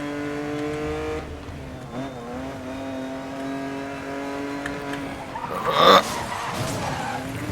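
A car in Need for Speed: Most Wanted (2012) brakes hard and skids, a steady engine drone giving way to a loud, brief tire screech near the end, with no talking.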